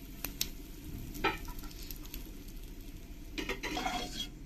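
Panch phoron, dried chillies and bay leaf sizzle in hot oil, a steady close crackle broken by a few sharp clinks of a spoon against the pan, with no talking.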